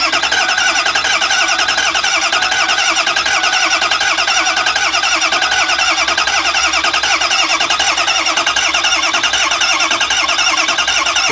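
Ford E350 bus with a 6.0 diesel engine cranking without catching, a steady loud starter whir that runs unbroken the whole time with no voice over it.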